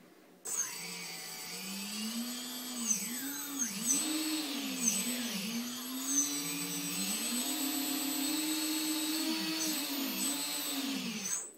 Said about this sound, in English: the motors that I have seem to be running